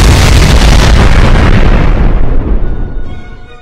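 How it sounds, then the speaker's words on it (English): A mighty explosion booms loud and close, a dense rumbling blast that rolls on for a few seconds before fading out, with no voices over it. "There was a mighty explosion,"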